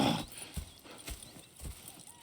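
Horses in a Red Dead Redemption 2 camp: hooves clip-clop in a steady irregular rhythm with a whinny near the start, fairly close and moderately loud over faint background murmur.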